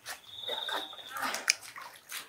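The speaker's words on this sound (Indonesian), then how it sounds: "Siram dia pakai air garam." Salt water splashes and sloshes in several bursts, with a sharper splatter midway, amid faint voices and background clatter.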